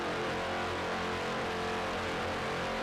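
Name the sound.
racing boat with Mercury engines revving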